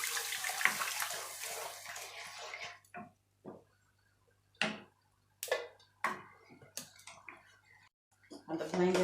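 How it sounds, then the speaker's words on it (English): Coconut water pours into a pan of frying chicken curry base in a steady splashing stream, followed by a few short clinks and knocks, with a voice speaking briefly at the start. "My coconut water."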